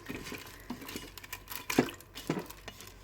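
A spoon scrapes and clinks against a pot while water mixed with veal stock is stirred. The light, irregular taps and swishes come up close, with no talking.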